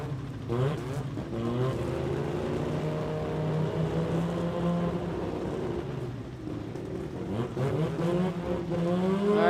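Drag-racing sports compact cars, including an RX-7 in the Street 289 class, launch at the Garrett Sydney Jamboree 2024, their engines roaring loud and sweeping up in pitch through continuous high-revving runs.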